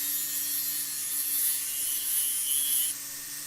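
A small sanding disc grinds against a box clasp, giving a steady, faint high-pitched whirring rub that holds continuously before dropping off near the end.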